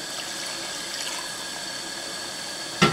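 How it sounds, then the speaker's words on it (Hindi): A small splash of water poured into chicken cooking over a high flame, with a steady sizzling hiss throughout and a brief sharp burst near the end. "फ्लेम हाई पर ही आपने इस पर बिल्कुल थोड़ा सा पानी ऐड कर लेना है।"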